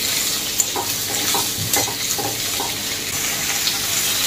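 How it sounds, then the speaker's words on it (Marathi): Thinly sliced onion sizzles steadily in hot oil over a high flame while a spoon stirs it with soft scraping, as part of a bitter gourd bhaji being cooked. "सुरुवातीला हा कांदा मोठ्या गॅसवर आपण परतून घेऊ."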